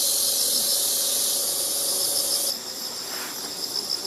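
Insects gather around a large flowering patch of Allium tuberosum, with a steady high, bright insect chirring drone running throughout; it thins slightly partway through but carries on without any voices.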